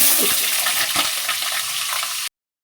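Butter and oil sizzle steadily in a pan, a dense, fairly loud hiss with faint crackles and a brief stirring scrape near the start, then cutting off abruptly.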